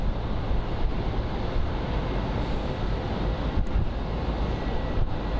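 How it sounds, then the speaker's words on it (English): An American Airlines Boeing 737 MAX 8 jet at Phoenix Sky Harbor airport gives a steady broad roar of engine noise, continuous and fairly loud with slight wind buffeting and no voices. "It's a 737 MAX 8. It's an American Airlines flight."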